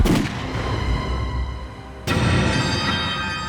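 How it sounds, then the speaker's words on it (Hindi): A sharp loud bang cuts in suddenly, followed by a lingering rumbling echo, like a single gunshot fired some distance away. "ये आवाज पटाखे की नहीं है, गोली चलने की आवाज है"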